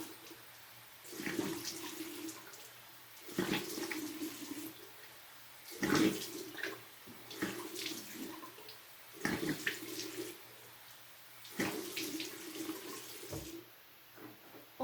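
Running water splashes repeatedly as a face is rinsed after cleansing, in rhythmic bursts every second or two over a steady faucet flow, close and moderately loud.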